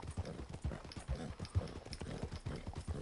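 Horse hooves clip-clopping in Red Dead Redemption 2, a steady, close, even-paced rhythm of about seven soft thuds with no talking.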